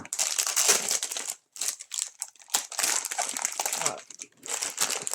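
Plastic packaging around a Harry Potter sticker album crinkles and tears in several close, bursty rips separated by short pauses, with a person speaking briefly.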